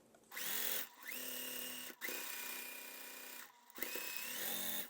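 A sewing machine stitches quilt block segments together in several steady runs of rapid motor-driven stitching, close and clear, separated by brief pauses.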